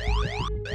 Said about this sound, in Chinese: 第二天，刺耳的警报声把我给吵醒。